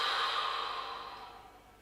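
A single long breathy exhale from a kundalini yoga breathing exercise, close and airy, fading gradually over nearly two seconds with no talk.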